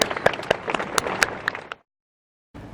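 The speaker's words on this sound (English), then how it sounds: "They are clapping. I don't know why they are clapping." Scattered claps from a small crowd in Vienna, Austria, brisk and uneven, then a sudden cut to silence before faint room noise returns.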